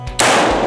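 A rifle shot cracks out at a military shooting range during cadet troop-leader training, a single loud, close report at the start that rings and echoes away through the rest of the moment.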